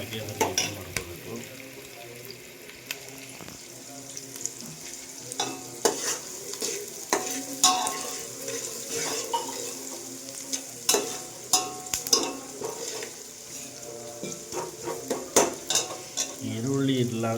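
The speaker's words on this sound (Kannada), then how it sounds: "ಈಗ ಈರುಳ್ಳಿನ ಹದವಾಗಿ ಹುರ್ಕೋಬೇಕು." Onions frying in a pan for a chicken gravy while being stirred: steady close sizzle with repeated scraping and clinking strokes of a spoon against the pan, continuous throughout.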